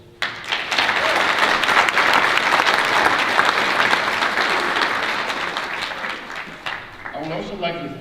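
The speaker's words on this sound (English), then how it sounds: "Please join me in giving your cheerleaders and supporters a round of applause." Sustained, loud applause from a large audience at a community college graduation ceremony in Cortez, Colorado, holding steady for several seconds before tapering, with a voice briefly speaking as it fades.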